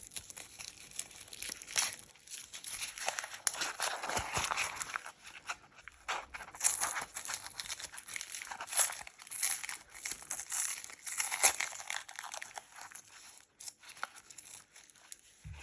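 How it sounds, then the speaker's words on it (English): Dry papery shallot skins being peeled away by hand, a close run of soft crinkling and tearing rustles with brief sharper crackles, continuing steadily with no voices. "You're going to peel 2 layers of the skin."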